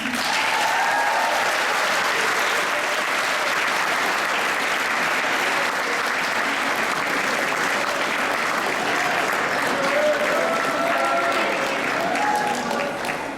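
An audience gives sustained, dense applause for a recognised student, Mr. Donovan Brown, with an even wash of many hands clapping that holds steady throughout.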